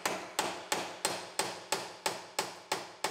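Nine sharp metallic blows from a body hammer knocking spot welds loose on a Lexus IS250's damaged structure, at an even, quick rhythm, each ringing briefly before the next strike, close by.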